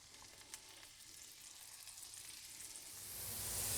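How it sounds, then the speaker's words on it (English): Swedish meatballs fry in a hot pan, a faint steady sizzle with soft crackles that swells louder toward the end, no voices over it. "Now let's get frying. Pan is hot and ready for our meatballs."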